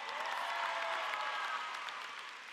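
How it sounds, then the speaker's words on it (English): Applause from a crowd at a high school commencement in a university venue: sustained, dense clapping held at an even level before gradually tapering off toward the end. "Give them a big round of applause."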